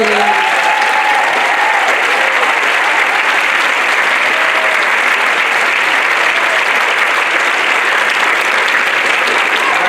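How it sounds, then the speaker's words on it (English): A large theater audience at a fifth-grade completion ceremony applauds child ukulele players, with loud, dense, continuous clapping and brief cheers throughout. "a round of applause for our ukulele"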